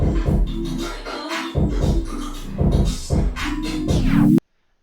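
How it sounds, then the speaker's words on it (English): A dense, washed-out reverb intro to a beat pulses with a steady rhythm, then stops abruptly into silence. "at the beginning of the song, there's that nice little reverb part as an intro"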